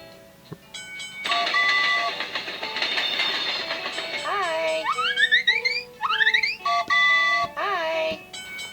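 A chugging toy-train effect from a kids' iPad app with clattering rhythm, followed by a series of rising, cartoonish whistle toots, bright and close.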